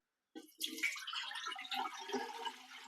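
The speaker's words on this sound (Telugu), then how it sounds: "లోటా పిండికి ఈ ఎనిమిది లోటాలు నీళ్లు పోయాలి" Water is poured steadily into sago flour for making sago vadiyalu, a continuous splashing stream that starts after a brief silence and runs on at moderate loudness.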